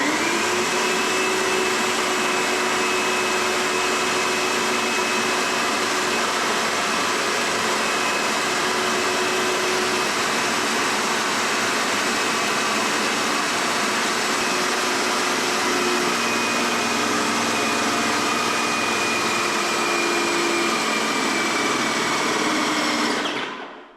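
An airless paint sprayer machine run in prime mode at setting 2 drones steadily and loudly for the whole stretch with a constant whine and hiss, no talk over it.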